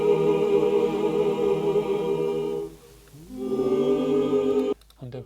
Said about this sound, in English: There's a choir.